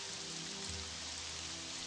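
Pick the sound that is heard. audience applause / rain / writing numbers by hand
rain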